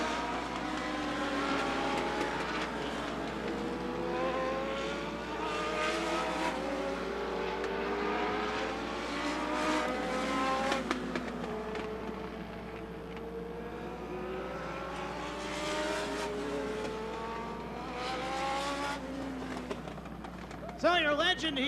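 Legend race cars roar around the Rockford Speedway oval during a heat race, engines droning and rising and falling in repeated passes, loud and continuous beneath a track announcer's commentary.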